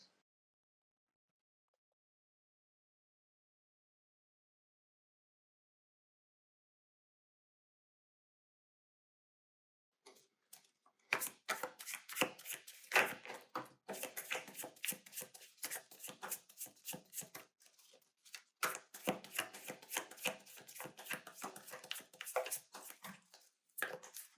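Tarot cards are handled and shuffled close by after a long silence, producing rapid papery riffles and soft slaps in uneven bursts.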